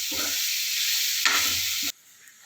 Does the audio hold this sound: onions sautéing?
yes